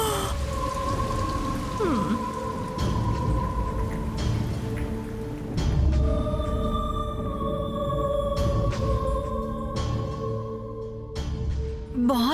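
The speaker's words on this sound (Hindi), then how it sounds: "इतने तेज तूफान और बारिश में रानी कहाँ से आ रही होगी?" Heavy rain pours steadily for the whole stretch, with low rumbles of thunder rolling beneath the downpour and no voices.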